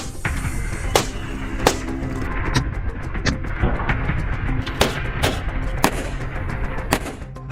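Test gunshots fired at a bulletproof Mercedes car: a series of roughly a dozen sharp, loud cracks at irregular intervals over a continuous rumbling, noisy background, with no talking.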